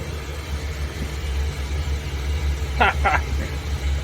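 A Suzuki Samurai engine hums steadily at moderate revs while driving, with a brief mechanical clunk from the shift near the end over the continuous road rumble.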